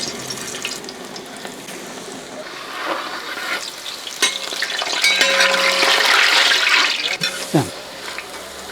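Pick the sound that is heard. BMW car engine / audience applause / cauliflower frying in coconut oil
cauliflower frying in coconut oil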